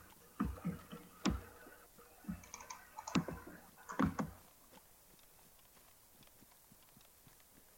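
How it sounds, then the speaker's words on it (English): Thumpy computer keyboard typing picked up through a voice-chat microphone, heard as irregular clusters of dull, percussive key strikes that fade out into quiet background noise. "Who's got the thumpy keyboard?"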